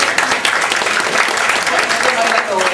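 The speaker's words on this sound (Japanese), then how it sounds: "隣のトトロに見えましたら盛大な拍手" An audience at a live paper-cutting comedy show bursts into loud, dense applause that stays close and continuous for the whole stretch, with a voice briefly audible over it.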